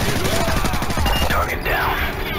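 Dense, sustained gunfire from the Call of Duty Modern Warfare 3 video game rattles in rapid, overlapping bursts of cover fire. It is loud and continuous, with a broad rumble underneath and faint radio-like voices mixed in.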